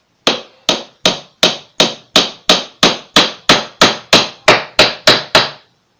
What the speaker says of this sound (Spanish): poco a poco vas a ir martillando para que vaya entrando el tarugo tapando el hueco.